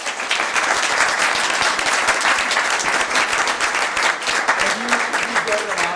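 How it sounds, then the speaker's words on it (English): An audience at a Newport News city council meeting and budget public hearing gives a loud, steady round of applause, with dense clapping throughout and a few voices rising near the end. "Let's give everyone a round of applause."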